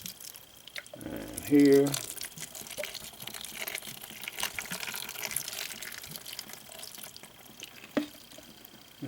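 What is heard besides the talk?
water spraying and dripping from a hose onto lentils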